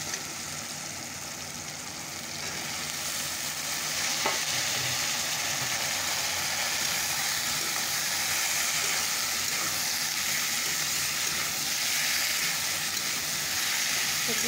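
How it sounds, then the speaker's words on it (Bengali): Vegetables added to lightly fried onions and salt sizzle loudly in a pan, a steady, close frying hiss that runs the whole time with occasional stirring. "চলো এবার সবজিটা দিয়ে দিই।"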